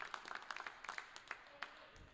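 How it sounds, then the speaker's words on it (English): Bench teammates clapping at a boys junior varsity basketball game in a gym, a scattered run of claps at moderate distance over the crowd's murmur. "That gets his teammates off the bench clapping"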